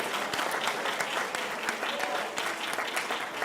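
Church congregation clapping hands in worship, a dense, sustained patter of many palms with sharp individual claps standing out, fairly loud and unbroken, with some vocal sound mixed in.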